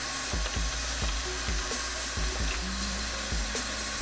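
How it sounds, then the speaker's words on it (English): Seasoned food being stirred in a pan while cooking curry red snapper with Cajun shrimp and crab, with repeated soft scraping knocks of a utensil over a steady sizzle. "Give a nice stir in."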